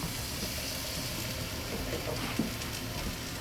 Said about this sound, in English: You do want to hear that little sizzle there.